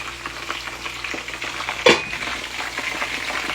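Fries frying in hot oil, a continuous close crackling sizzle with one sharp louder burst partway through, no voices.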